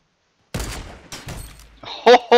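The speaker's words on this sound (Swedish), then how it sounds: "Så skjuter jag mitt emellan de två." Gunfire in the video game Fortnite: a burst of shots between about 0.5 and 1.7 seconds, then two loud, sharp bursts near the end, fairly close and standing alone without talk.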